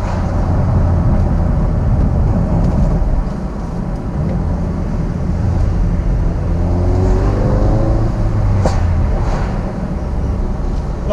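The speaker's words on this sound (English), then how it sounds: "the turbo seems to spool up a lot quicker. Definitely a lot more bangs and pops from the exhaust." A Ford Focus RS with a Mountune stage 1 kit drives under load, its engine and turbo droning loudly and steadily, with the pitch rising as it accelerates and a few sharp exhaust pops near the end.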